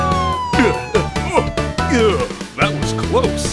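A police car siren wails in a children's cartoon song, its tone sweeping up and down over bouncy music while a cartoon voice sings and talks on top.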